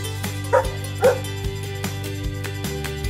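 A dog barks and yips in a few short, sharp bursts, close and moderately loud, over a steady tonal background.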